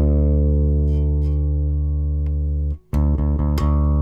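Sterling Stingray short-scale bass with its pickups switched to parallel, playing a long sustained low note with a deep fundamental and rich upper harmonics. The note fades briefly near the end, and a few further short plucked notes follow. No one speaks.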